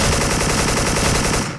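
Rapid automatic M4 rifle fire from the online shooter Special Force, a loud, continuous burst of fast repeated shots lasting over a second with no talking.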